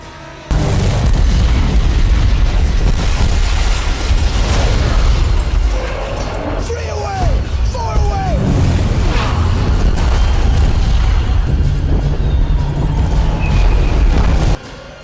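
Bomb explosions from US air raids on Tokyo during wartime, heard as a dense, continuous roar of booming blasts and rumbling bursts that runs loud and unbroken for most of the clip.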